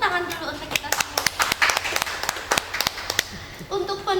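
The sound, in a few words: audience clapping hands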